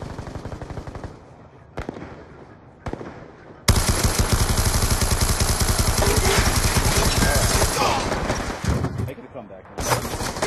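Rapid automatic gunfire in the video game Call of Duty Black Ops 2, with short bursts at first and then a long, dense, loud stretch of firing and explosions, while players talk over it.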